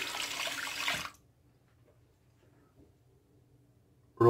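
Water runs from a tap for about a second to rinse shaving lather from a brush, then cuts off, leaving near silence before a brief final splash.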